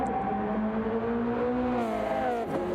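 Race cars at the start of a racing video game, several engines whining and revving steadily together close by, pitch holding and then shifting as they pull away, without voices.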